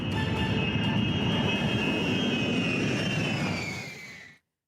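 A US bomber aircraft's engines roar in a loud, steady whine with a broad rushing rumble, holding for several seconds before fading out abruptly.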